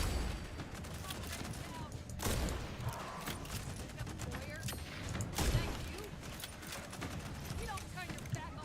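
Rapid turret gunfire bursts in the vampire shooter Redfall, a steady clatter of shots layered with game music and effects, with louder swells of firing near the middle.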